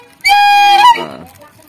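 A homemade trumpet made from a used thread spool and plastic, blown once into a loud, brassy honk that resembles a goose or car horn, held briefly before it trails off.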